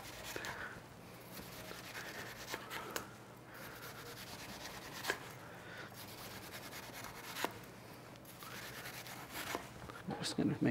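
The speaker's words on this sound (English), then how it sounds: "use the bread knife for this because it gives it a nice little sawing action and it's a little easier to cut through it" A bread knife saws through watermelon rind in a kitchen, making a steady stream of soft, rasping back-and-forth strokes close by, with a few sharper scrapes as the blade moves.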